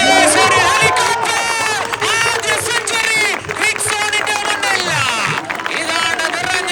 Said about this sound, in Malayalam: ഇതാണ് നിറഞ്ഞ കയ്യടിയോട് സ്വീകരിക്കാം.